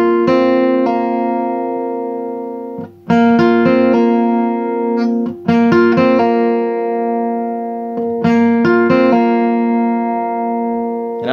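Acoustic guitar playing a bluegrass lick, with upstrokes and a pull-off to an open string: bright plucked notes in short rhythmic bursts with brief gaps, close and solo, no voices.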